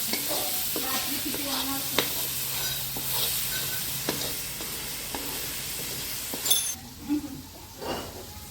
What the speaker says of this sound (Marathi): कांदा, हिरवी मिरची, राई, जिरा, कढीपत्ता फ्राय करून घेते। तर कांदा लालसर होईपर्यंत फ्राय करते।